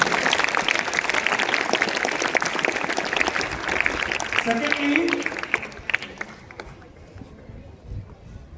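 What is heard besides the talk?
audience applause after school skit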